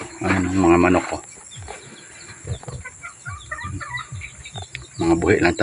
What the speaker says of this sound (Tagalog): Ayan ang mga manok ko.